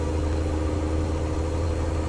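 A car engine runs steadily at low revs, around 1,200 RPM, while driving in gear, a constant close droning hum with no talk over it.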